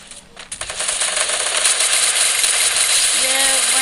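Rapid MP40 and MP20 submachine gun fire in a video game, a loud, close, continuous rattle of shots that builds quickly and keeps going.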